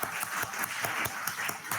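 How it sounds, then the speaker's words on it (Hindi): An audience at a formal event breaks into applause, a fairly quiet patter of claps with distinct individual hand strikes in a loose, uneven rhythm, no talking over it. "ताली बजाइए।"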